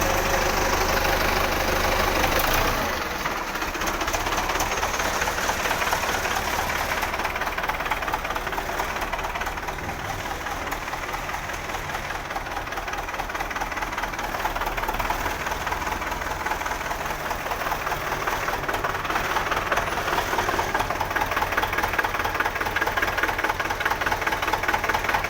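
An 08 Belarus 510 tractor engine idles steadily and close by, a continuous low knocking diesel chug that holds evenly for the whole stretch with no talk over it.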